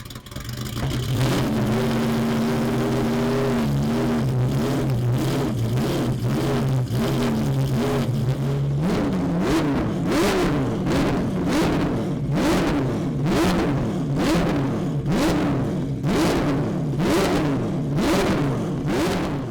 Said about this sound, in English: The engines are fantastic, and they all sound different